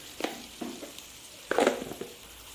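Eggs frying on low flame in a pan with turmeric, salt and chili powder for egg biryani, giving a soft sizzle with a few brief stirring scrapes and clinks, the loudest burst near the end.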